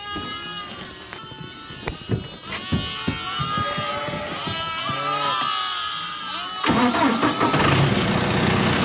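A farm tractor's engine cranks and fires up inside a lamb pen, preceded by scattered knocks and clatter with lambs bleating, then the motor settling into a steady, loud running rumble.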